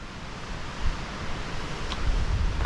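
Wind rushes across a mountain trail on Mount Rogers in a steady, loud roar, rising slightly in gusts with some rumbling buffeting on the microphone, no speech.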